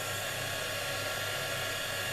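A hair dryer blows steadily on paper letter cutouts for a handmade smash book, giving a loud, even whirring rush of air with no pauses.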